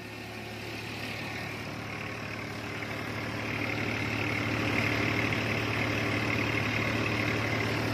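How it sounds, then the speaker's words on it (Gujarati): A tractor engine hums at a steady speed, a continuous heavy drone that grows slightly louder midway, close and unbroken, with no voices. "ટ્રેક્ટર આરપીએમ ઓછા નહીં થતા."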